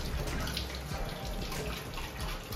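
Running tap water splashes steadily over a plate being rinsed clean in a small bachelor kitchen, a continuous close hiss and patter lasting a few seconds without any speech.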